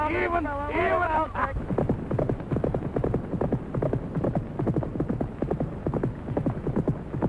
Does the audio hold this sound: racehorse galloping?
yes